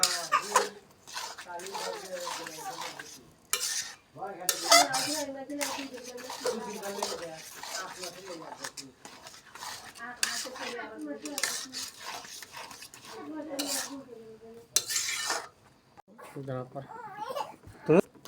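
A spoon stirs and scrapes khichuri frying in a pot, with steady metallic clinks and scraping throughout while someone talks over it almost continuously.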